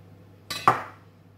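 Flour tipped into a mixing bowl for Yorkshire pudding batter, with two quick clinks of utensil against the bowl close by, the second ringing briefly before fading into quiet room tone.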